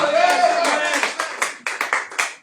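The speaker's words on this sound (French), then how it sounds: "Est-ce que quelqu'un peut vraiment acclamer?" Church congregation at a Sunday service clapping loudly, a dense burst of applause with voices cheering over it that thins into a few scattered claps.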